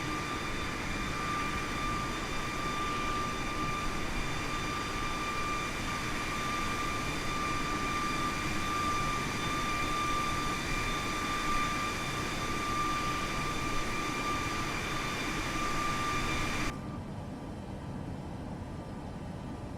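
Airliner jet engines at climb thrust in Microsoft Flight Simulator 2024 give a loud, steady cabin roar with a thin whine running through it for most of the clip before it suddenly drops to a quieter hum near the end.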